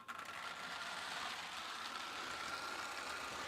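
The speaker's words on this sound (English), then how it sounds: "it's a really interesting engine to run without any cars because it's high speed and low torque" A model train engine running on its own with no cars attached, a high-speed, low-torque locomotive giving off a steady, faint whirring motor hum throughout.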